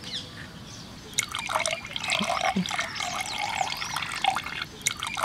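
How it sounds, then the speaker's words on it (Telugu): Coffee water poured into milk for cold coffee, a soft trickling and splashing stream that starts after a second of quiet and runs unevenly, fairly faint and close. "ఈ పాలలో కాఫీ నీళ్ళు కాడ వేసుకుని కలుపుకోవాలి"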